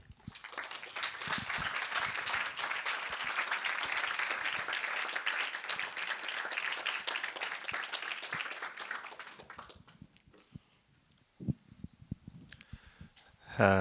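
Audience applause welcoming panel guests Pedro, Rafael and Michał onto a film festival stage: dense, steady clapping from a full room for about nine seconds, then fading out to a few scattered claps and faint noises.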